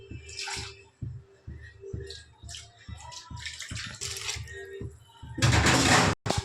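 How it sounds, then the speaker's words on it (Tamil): Water is poured into a cooking pot of simmering kuzhambu, a close gushing splash near the end over rhythmic kitchen clatter and stirring, with someone talking. "தேவையான அளவு தண்ணி கொஞ்சம் ஊற்றிக்கோங்க."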